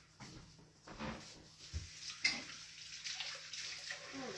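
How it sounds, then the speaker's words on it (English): Tap water runs into a kitchen sink for hand washing during drink preparation, a steady broadband hiss with small splashes and clinks, moderately close and fairly quiet throughout. "I need to wash my hands."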